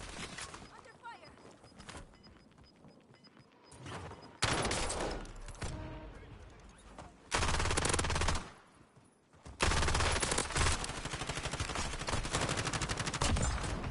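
Bursts of gunfire in the Call of Duty Online video game, loud rapid automatic fire in several separate volleys with quieter gaps between, game sounds and some voices alongside.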